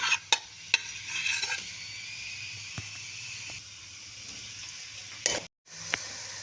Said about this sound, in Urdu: پیاز ڈال کر ہم اس میں اچھی طرح سے براؤن کر لیں گے۔